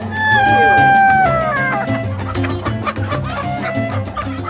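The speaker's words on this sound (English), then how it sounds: "They've got all the live chickens in the pens right here." Live chickens cluck and squawk in crowded pens at a market in Addis Ababa, Ethiopia, a loud, dense chorus of overlapping calls with a clear high cry near the start, busy crowd noise underneath.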